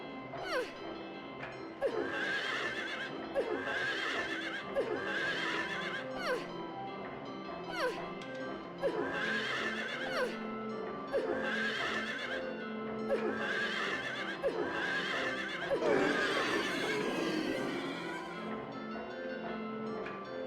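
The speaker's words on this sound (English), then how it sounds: "When you hit them, they make horse sounds." Repeated horse neighs and whinnies from carousel horse monsters in Silent Hill 3, sounding each time one is struck with a knife, over a constant droning game ambience with occasional clip-clop-like knocks.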